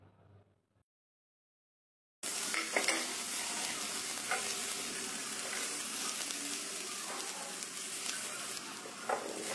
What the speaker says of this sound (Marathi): तर आता मी थोडंसं एक 2 ते 3 मिनिटापर्यंत तोडणीला फ्राय करून घेते।